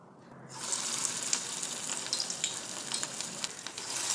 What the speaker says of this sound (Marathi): तेल तापलं आता भजी करते